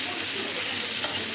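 Chopped onions being stirred in hot oil for an egg curry, with a dense, even sizzle filling the whole moment and no talking.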